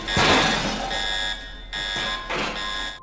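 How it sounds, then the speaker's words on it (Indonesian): An emergency alarm in a hospital rings loudly in a horror film, a harsh electronic buzzing tone sounding in several long bursts separated by short gaps. "tiba-tiba alarm darurat berbunyi keras"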